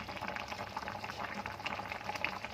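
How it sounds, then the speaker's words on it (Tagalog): A pot of pork sinigang soup with corn bubbling steadily at a low simmer, with dense crackling and popping of boiling liquid throughout and no voices. "habang kumukulo siya"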